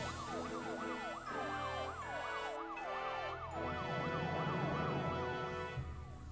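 Police car sirens wail in a looping up-and-down sweep, layered over music and game sound effects, for the mission-failed fanfare in the Metal Gear Solid 2 video game; the loudness holds steady throughout.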